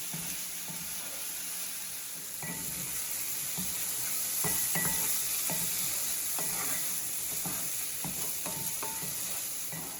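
Beef tongue sears in a cast iron pan with a steady loud sizzle, broken by scattered sharp scrapes and taps of stirring, with no voices.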